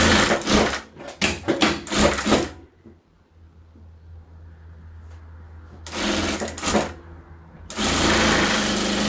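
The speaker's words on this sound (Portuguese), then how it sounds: "Vou costurar aqui também." A sewing machine stitches fabric scraps into a patchwork rug in several loud, rapid bursts separated by quiet pauses.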